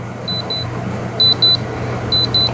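Soundcore A20i earbuds give their find-device alert: short, faint, high-pitched beeps in small pairs over a low steady background hum.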